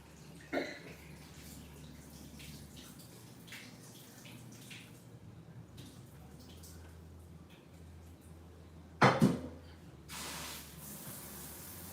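Cold water runs steadily from a kitchen tap over cooked pasta for a shrimp pasta salad, a soft continuous hiss with a couple of brief clattering bumps, no talking.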